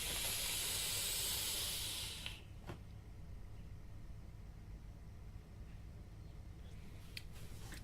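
A long exhale of vapor from an RDA atomizer run at 75 watts on a 0.33-ohm build with the airflow wide open: a loud, broad airy hiss for about two seconds, then a faint residual breathy noise.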